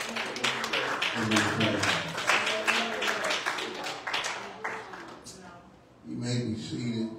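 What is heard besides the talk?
congregation clapping hands in church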